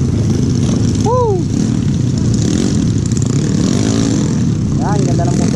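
A motorcycle engine drones steadily nearby, with a constant rumbling roar and a few brief higher whines cutting through.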